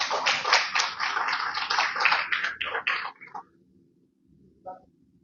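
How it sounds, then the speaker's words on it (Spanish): An audience at a university book-fair event in Lima applauds, a dense burst of clapping that tapers off after about three seconds into near silence with a faint stray sound. "Un aplauso para ellos."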